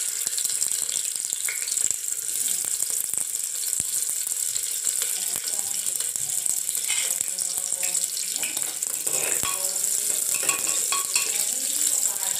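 Onion frying in oil with cloves, cardamom and cinnamon, a continuous close crackling sizzle with scattered pops and clicks of stirring, faint background noise.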